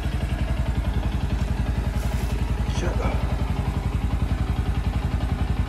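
A Royal Enfield GT 650 motorcycle idles after a cold start with a steady, close, rhythmic thumping beat that holds an even pace throughout.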